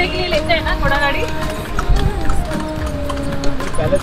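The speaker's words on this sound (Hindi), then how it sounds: "वो वैसे घूमने के लिए लेते हैं ना घोड़ा गाड़ी।" Horse-drawn tanga cart in Mysore clip-clopping along a street, the hoof beats steady and fairly close, mixed with traffic and background voices.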